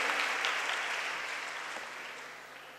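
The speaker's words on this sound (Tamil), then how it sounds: "உங்கள் பலத்த கரகோஷம்" Audience applause at an entrepreneurship awards ceremony in Vellore district, a dense, steady clapping from a large crowd that fades gradually over about three seconds.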